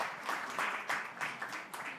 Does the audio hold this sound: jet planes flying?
no